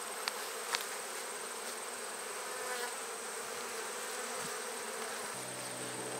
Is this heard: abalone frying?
no